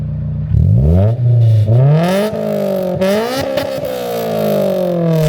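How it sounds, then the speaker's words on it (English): A widebody Honda S2000 with a straight-pipe exhaust revs repeatedly nearby, the engine climbing and dropping in pitch across several loud, raspy pulls with no talking. "So the exhaust, It's loud."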